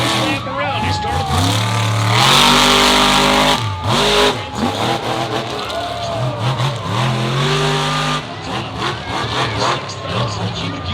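A monster truck engine revving and roaring on a dirt track at a Charlotte, North Carolina show, loud rising and falling revs with an announcer talking over it throughout.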